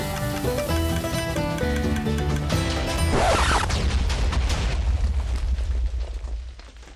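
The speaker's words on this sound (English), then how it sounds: "something went drastically wrong there and blew up the entire cannon" A TNT cannon blowing up in the Minecraft video game, a loud booming explosion with a rumbling crash and a lingering roar that fades, following a stretch of game music.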